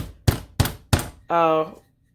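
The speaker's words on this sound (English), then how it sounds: "rolling pin and she banged it out so that the meat isn't as thick here" A rolling pin thumps three times at a steady beat on a chicken breast being flattened, each blow a sharp, close, heavy knock; a short voiced hum follows.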